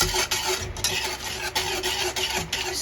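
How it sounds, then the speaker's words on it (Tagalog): Gulaman mixture is stirred in a pot over heat, a scraping, swishing sound with regular strokes and soft knocks, steady and close. "Stir, stir, stir."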